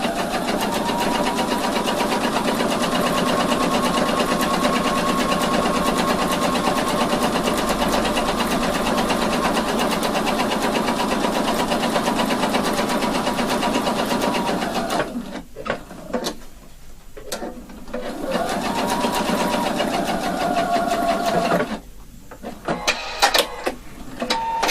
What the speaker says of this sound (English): Now top stitch it, and in this case 2mm from the edge